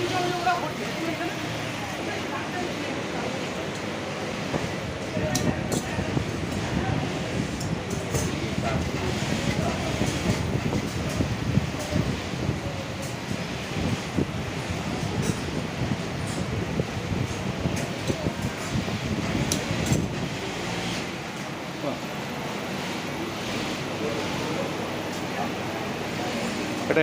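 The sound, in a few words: sewing machines stitching jute bags in a factory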